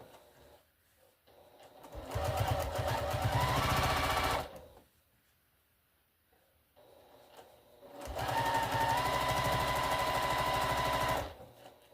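Sewing machine stitching a string potholder, two bursts of steady rapid whirring a few seconds each separated by a quiet pause, close and clear.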